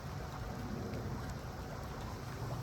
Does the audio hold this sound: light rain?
yes